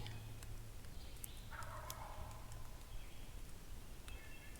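A wild turkey gobbles in Indiana woods on the spring hunting opener within about a hundred yards, its rapid rattling gobble rising clearly from a quiet outdoor background, with a brief faint call later.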